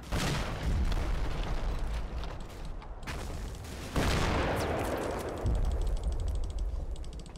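Mortar fire in a military video game: a series of heavy booms and blasts with rumbling tails, arriving in separate bursts of moderate loudness, with no talking.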